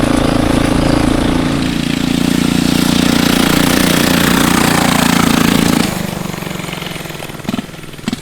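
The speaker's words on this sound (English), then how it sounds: "I love the sound of that turbo." Turbo diesel racing go kart engine running loud and close, a steady droning roar with a buzzy mid-range growl that holds for several seconds, then drops off abruptly to a quieter rumble as it pulls away.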